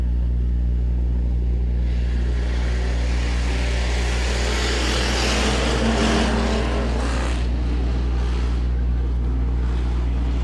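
Hobby Stock race cars roaring through heat race number 2 at Rock County Speedway, a loud, steady wall of engine noise that swells in the middle as the pack passes.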